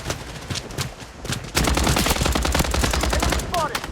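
Automatic gunfire in the shooter game Blood Strike, with a quieter burst first, then a loud sustained volley of rapid close shots running to the end.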